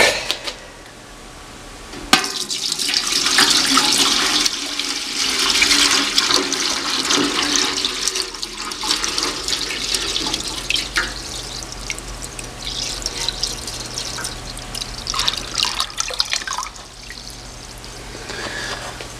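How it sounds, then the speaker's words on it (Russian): Water is poured into a homemade tin-sheet washstand of about five litres, a loud sustained gushing and splashing against metal that rises and varies for over a dozen seconds before tapering off, with no speech. "сейчас заливаем воды и смотрим"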